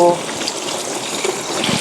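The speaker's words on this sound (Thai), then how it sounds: "ให้น้ำไหลผ่านตัวกระเพาะปลานะคะ" Tap water runs steadily over fish maw as it is rinsed in a sink, a brief, even gushing splash.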